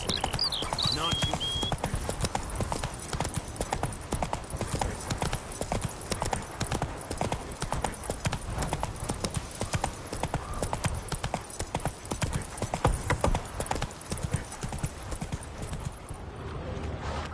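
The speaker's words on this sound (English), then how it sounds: "Run, Roach." Galloping horse in The Witcher 3, a fast, dense drumming of hooves that keeps going for the whole stretch, heard close up with game ambience and a brief whinny-like tone near the start.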